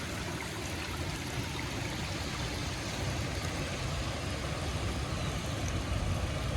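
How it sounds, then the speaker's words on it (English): Small waterfall at Ecola State Park on the Oregon coast, a steady broadband rush of falling water that holds even and fairly close throughout, with no voices over it. "Little waterfall over here."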